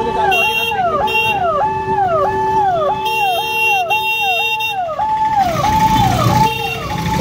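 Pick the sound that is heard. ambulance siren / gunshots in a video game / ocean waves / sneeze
ambulance siren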